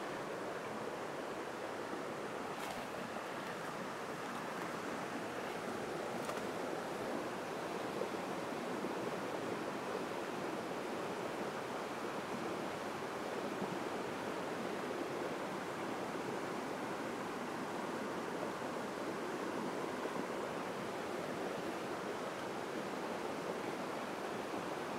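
The St. Anne River flows near a camp, giving a steady, even rush of water that holds at one level for the whole stretch. A couple of faint ticks sit under it and no voices are heard.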